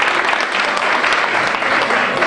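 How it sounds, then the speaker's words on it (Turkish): Dense, steady applause fills a hall at a hospital's 20th-anniversary long-service award ceremony, a continuous wash of many hands clapping throughout with no voices standing out. "Bu alkışları vermemiz size."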